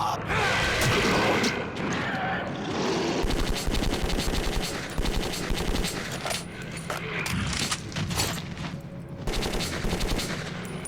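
Gunfire in Metro 2033, sustained bursts of rapid automatic shots with impacts and clatter, loud and close, continuing for several seconds with someone talking briefly over it.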